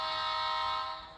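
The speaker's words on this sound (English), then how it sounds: "This is the bell, the air horn up here" A locomotive air horn blasts as one sustained, loud, harmonic tone. It holds steady and then begins to fade near the end, with no talk over it.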